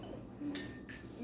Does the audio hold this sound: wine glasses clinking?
yes